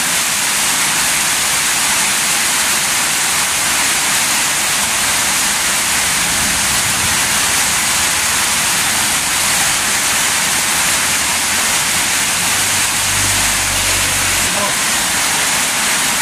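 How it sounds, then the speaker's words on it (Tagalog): Heavy rain pours down steadily during a Manila flood, a dense broadband wash that stays loud and continuous throughout, with a low rumble swelling briefly near the end. "Unti-unti nang humina yung magbuhos ng ulan."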